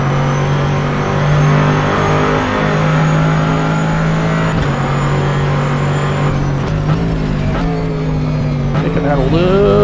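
Race car engines drone steadily in the rFactor 2 sim at Sebring International Raceway, with a McLaren's engine up close and other cars closing from behind, pitch shifting through gear changes as someone speaks over it.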